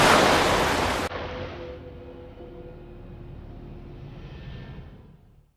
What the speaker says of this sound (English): The rising tide is now funneling a huge volume of water through the narrow gap between the islands of Jura and Scarba.